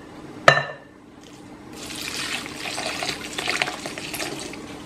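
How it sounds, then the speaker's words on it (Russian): Milk and yeast are poured into a runny cake batter for a lazy kulich, starting with a sharp clink of glass, then a steady close gurgle of liquid pouring for a few seconds. "И теперь сюда вливаем молоко и дрожжи."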